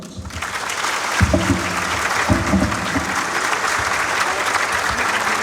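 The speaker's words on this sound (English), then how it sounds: "Ladies and gentlemen, a round of applause." Audience applause at a university speaker series, full steady clapping from a crowd that swells in quickly and continues for several seconds, with brief low voices underneath.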